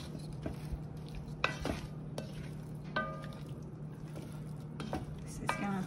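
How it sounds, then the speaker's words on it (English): Flour being stirred into beef in a pot for boeuf bourguignon: soft, quiet scraping and clinking of a spoon against the pot, with a faint low simmer and a steady background hum, no one talking. "we're going to stir this right for about 5 minutes"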